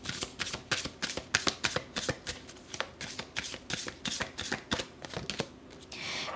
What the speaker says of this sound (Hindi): मैं थोड़ी सी और कार्ड्स लेना चाहूँगी आपके लिए